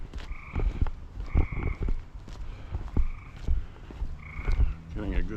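Spring peeper frogs call at night outdoors in Maine during a walk, loud and close, with repeated calls in regular bursts over a background of footsteps.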